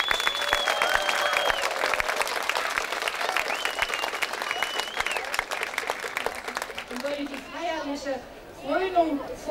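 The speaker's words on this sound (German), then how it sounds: "das ist mal ein riesen Applaus wert" Loud, sustained audience applause at the 25th Lavender Festival coronation in Bad Blankenburg, with a speaker's voice running over the clapping and speech taking over as the applause fades.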